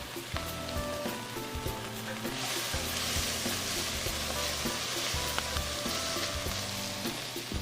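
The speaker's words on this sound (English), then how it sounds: "So you want to just sweat those vegetables down and get them a little translucent" Vegetables sweat in a pan with a garlic herb blend, giving a soft, steady sizzle with light crackles and a few faint stirring knocks close by.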